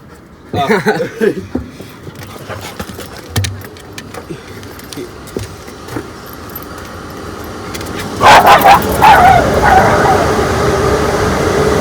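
A dog barks in sharp bursts near a railway, with people talking and chuckling nearby, followed by a louder, steady rumble of passing machinery.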